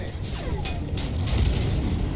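A tank cannon shot in the video game Battlefield 1 lands as a heavy, rumbling boom with dense low-end roar and a few sharper cracks layered over it, loud and close with no talking.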